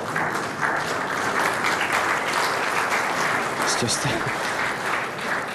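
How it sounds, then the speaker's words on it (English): Muted audience applause at an indoor lawn bowls championship semi-final, a sustained patter of many hands, with a commentator's voice briefly audible over it. "muted applause to start"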